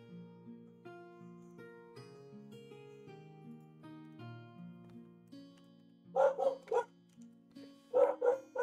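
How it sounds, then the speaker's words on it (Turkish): A dog barks in two short bursts of several yips each, near and fairly loud, over a steady background of electronic musical tones. "Köpeğin sesi yayına geliyor mu?"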